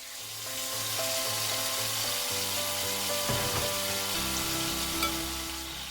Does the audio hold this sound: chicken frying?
yes